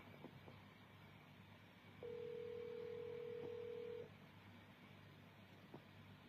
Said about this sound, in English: Let me call him now.